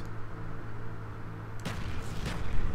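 A grenade goes off in a multiplayer shooter match, a single sharp blast followed by a second rumbling burst moments later, both loud over a steady background hum of game ambience.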